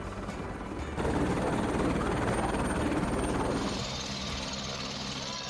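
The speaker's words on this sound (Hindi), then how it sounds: "वैष्णो देवी के लिए यात्रियों के हेलीकॉप्टर ने अपनी पहली उड़ान भरी" A passenger helicopter flying from Jammu airport to the Vaishno Devi helipad, its steady rotor thump and engine roar continuous and loud, swelling slightly after the first second and easing near the end.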